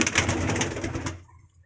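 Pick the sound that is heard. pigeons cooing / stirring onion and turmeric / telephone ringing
pigeons cooing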